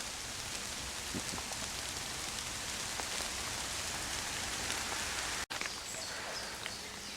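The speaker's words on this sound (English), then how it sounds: "it's still raining" Steady rain patters on surfaces all around in Sherwood Forest, with scattered louder drops ticking close by and a brief dropout near the end.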